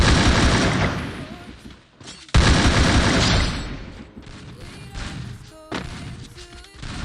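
Rapid gunfire bursts from a mobile shooting game played on BlueStacks, loud and close, with sharp volleys, a brief gap near the middle, then more scattered shots and impacts.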